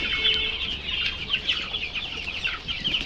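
Broiler chickens in a poultry shed cluck and chatter in a dense, continuous chorus of overlapping calls, fairly close and moderately loud.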